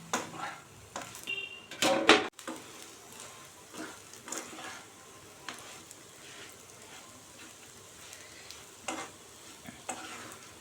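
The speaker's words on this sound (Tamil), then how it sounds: "அடுப்பை நல்லா சிம்மில் வச்சு 5 நிமிஷமாக நம்ம நல்லா கொஞ்சம் ப்ரௌனாக மாறுற அளவுக்கு நம்ம பரட்டி விட்டுக்கலாம்" Raw banana masala stirred and fried in a pan over a low flame, with a soft continuous sizzle and irregular scrapes and metal clinks of the spoon, one sharp clatter near the start.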